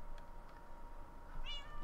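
Cat meowing in Minecraft, a short rising electronic-sounding mew near the end over a steady low background hum.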